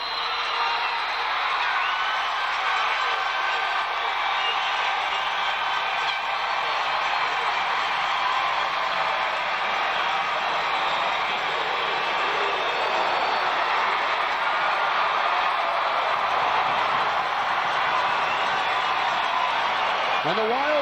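A large high school football crowd roars continuously at the final snap of a Class CC state championship game, a dense, sustained wall of cheering and whooping with a commentator's voice over it.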